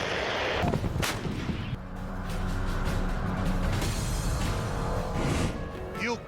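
Howitzer artillery fire is heard as heavy, booming blasts over continuous low rumble and battlefield noise.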